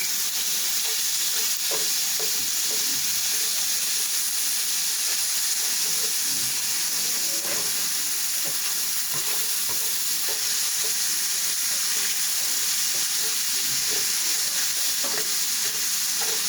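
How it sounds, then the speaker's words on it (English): Steady sizzling of beef frying in a pan, with occasional scraping and clatter as it is stirred, close and continuous with no talking. "sounds like I should stir this meat, so let's give that a toss"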